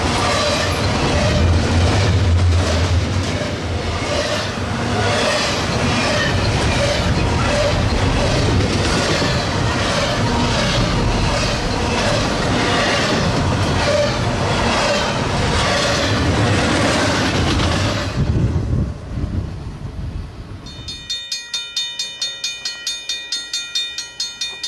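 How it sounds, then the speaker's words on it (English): Southbound intermodal train 228 passes at Ashby Station Road near Front Royal, Virginia, a loud close roar with rhythmic clickety-clack of wheels on rail joints, cutting off sharply near the end into a fainter pulsing sound. "southbound intermodal train 228 made its way into Front Royal to work the Virginia Inland Port"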